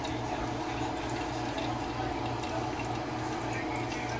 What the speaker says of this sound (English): I'm holding on until that fryer is hot, which you can hear it sizzling.